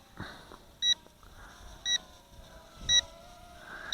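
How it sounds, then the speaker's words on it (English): Three short electronic beeps, each a quick high-pitched double chirp, spaced about a second apart over a soft background hum: a Juncheng 3015-2 micro quadcopter drone's low-battery warning. "Once it starts beeping like that, saying that the battery's gone weak"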